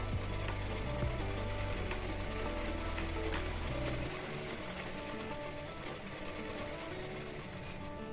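Sewing machine stitching a blouse runs with a steady whirring, rapid mechanical chatter, louder for about four seconds and then continuing slightly softer, close up without talk.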